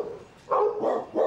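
Several dogs bark at a rural property behind a fence, three loud bursts of barking close by with short gaps between them.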